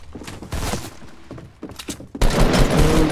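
Shotgun fire in the Fortnite video game: a few loud, sharp blasts close together, ending in a heavy burst of gunfire.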